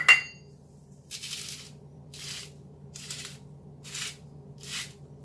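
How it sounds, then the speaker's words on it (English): A pepper mill grinding pepper over a green bean tahini salad in five separate grinds, each a short crunchy rasp, spaced about a second apart, close and fairly quiet over a low background hum. "Did about 5 grinds there"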